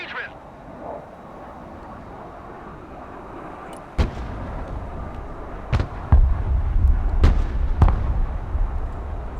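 Artillery firing in the video game Broken Arrow, several sharp booming shots with rumbling tails spaced over the second half, under a continuous low battlefield drone and occasional speech.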